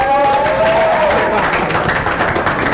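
A student pitch-event audience cheers and applauds for a team, a dense, loud wash of clapping with a few rising whoops at the start, sustained throughout the short burst.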